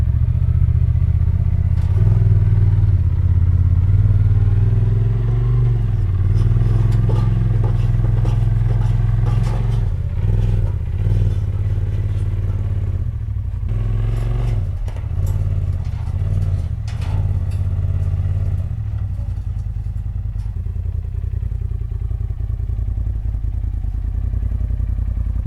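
A Polaris RZR Turbo UTV engine runs steadily and close by as the machine is driven up ramps onto a truck, a continuous mid-range rumble with occasional clattering over the ramps and no talking.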